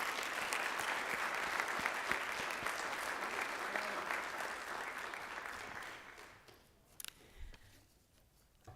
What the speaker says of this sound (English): let's give Ms. Washington a round of applause